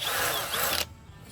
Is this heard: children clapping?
no